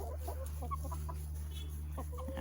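A chicken in winter snow clucks in short, soft bursts over a steady low hum, close but fairly quiet, with no talking.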